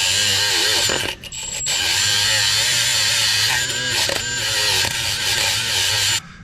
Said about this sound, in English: we're going to wire brush this up really good